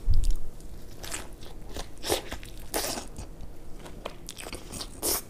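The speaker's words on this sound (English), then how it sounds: "I'm gonna take a bite of this whole thing right here so I can get everything" Close, crunchy bites and chewing into a thick chicken sandwich with lettuce and tomato, several crisp crunches spread over a few seconds with no talking.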